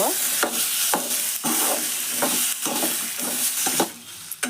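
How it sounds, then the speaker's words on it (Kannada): Tomato chutney ingredients fry in oil in a pan, a steady close sizzle broken by repeated scraping stirs roughly every second, with no talk. "ನೋಡ್ರಿ ಇವು ಎಲ್ಲ ಎಣ್ಣೆ ಒಳಗೆ ಫ್ರೈ ನೋಡ್ರಿ"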